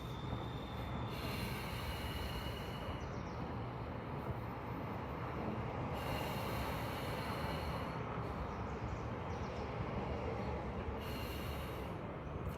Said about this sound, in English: contracting the throat like you're fogging up a mirror, but with your mouth closed, and through your nose